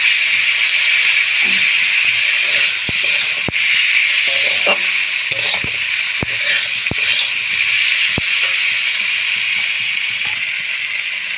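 Potato and kohlrabi with salt, turmeric and chilli powder fry in a pan, producing a loud, constant hissing sizzle punctuated by sharp clicks and taps of stirring.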